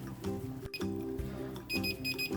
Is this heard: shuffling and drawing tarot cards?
no